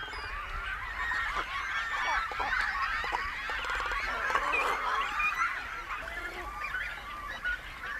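A dense chorus of birds, such as cormorants and egrets, calls on small Caribbean islands near Holbox, with overlapping honking and squawking calls that are continuous and moderately close, with no talking.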